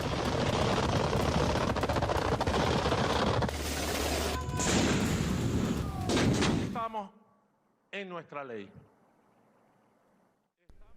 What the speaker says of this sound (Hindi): वेनेजुएला की सेना तोप से गोले दाग रही है